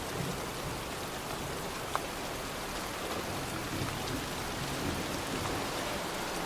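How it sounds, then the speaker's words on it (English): Steady, dense rain falls evenly throughout the storm scene in the video game Heavy Rain, a close, continuous hiss with no clear thunderclap and no talking. "looks like a storm's coming"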